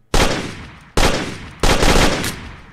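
An assault rifle in a horror video game fires three loud, close bursts of automatic fire. Each burst ends with a fading tail before the next one starts.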